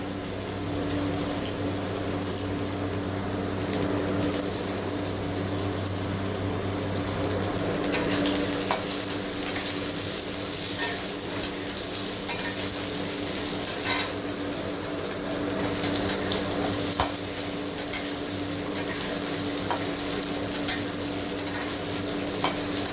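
Thin, long-sliced potatoes frying in a pan for a mourola fish jhal, a steady bright sizzle with occasional stirring clicks and small spits, close and continuous without any talk.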